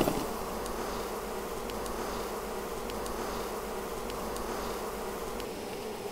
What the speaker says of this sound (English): There are going to be bees flying out